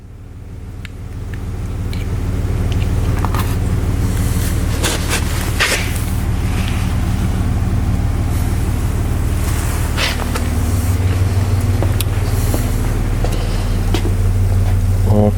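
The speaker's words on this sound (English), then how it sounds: "my truck is idling in the background" A truck idles in the background, a steady low engine drone that holds for the whole stretch with a few faint clatters and knocks on top; no one speaks.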